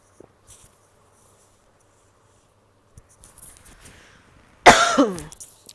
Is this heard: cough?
yes